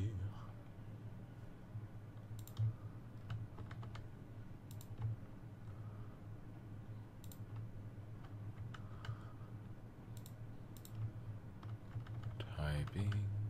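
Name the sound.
typing on a computer keyboard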